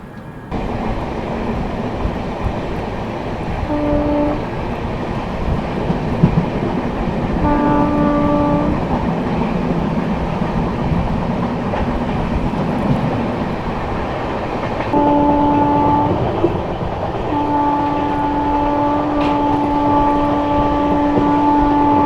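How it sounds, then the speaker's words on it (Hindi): The Kaifiyaat SF Express rolls into Khorason Road station in winter fog, a loud continuous rumble of wagons with repeated horn blasts sounding through the passage. "तो ट्रेन अपनी अराइव कर रही है खोरासन रोड।"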